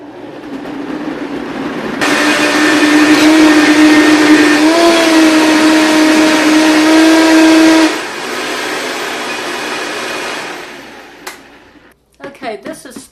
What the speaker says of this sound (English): I like mine quite smooth, so I blend this very much